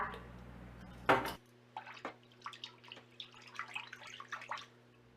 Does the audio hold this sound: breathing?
no